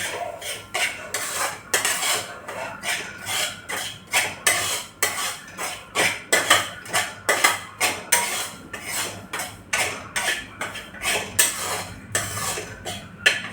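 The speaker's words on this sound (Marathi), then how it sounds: "याला पण आपण बारीक गॅसवर छान भाजून घेऊया" Semolina roasts in ghee in a pan over a low flame, with a spatula scraping and clinking against the metal in a fast, steady rhythm of sharp strokes, close and prominent, with no voices.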